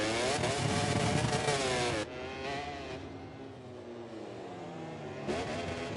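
MotoGP motorcycles race around the track at Sepang in a racing game, loud high-revving engine whines with shifting pitch as bikes accelerate and pass close by.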